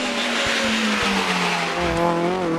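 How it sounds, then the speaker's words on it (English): A 1600cc Mini Cooper S Works race car engine roars loudly and steadily at the 2006 Longleat Speed Hillclimb, its pitch holding high and then rising slightly as it pulls away, with a brief tire squeal. "1600cc Mini Cooper S Works."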